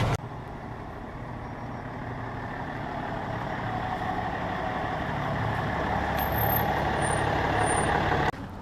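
A pickup truck engine rumbles steadily nearby as it pulls into a garage, growing slightly louder, with a brief hiss and faint high beeps before it cuts off.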